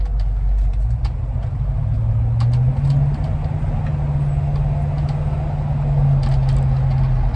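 A 1970 Cadillac Deville Convertible cruises into a curve, its engine holding a steady low drone with a slight rise in pitch partway through, tire and road noise underneath, no voices.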